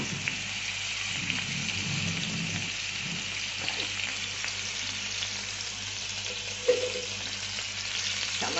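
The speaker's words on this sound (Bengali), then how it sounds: "আর এই মাছটা আমি এখানে একটু শুধু সাঁতলে নেব, সামান্য।" Hilsa fish pieces, rubbed with salt and turmeric, frying lightly in a little white oil, giving a steady soft hiss and crackle throughout with a brief louder pop near the end and no voices.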